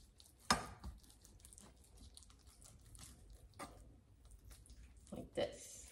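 A couple of sharp knife strokes slice through raw chicken on a cutting board while preparing a broccoli cheddar chicken bake, with quiet kitchen rustling and faint dripping between the cuts.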